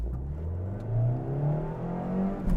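Suzuki SX car accelerating, a mid-pitched engine rising steadily in pitch as it revs up through the gear, heard from inside at moderate loudness.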